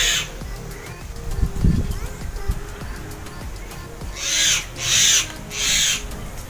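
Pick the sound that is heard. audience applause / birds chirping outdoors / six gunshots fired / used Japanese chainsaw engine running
birds chirping outdoors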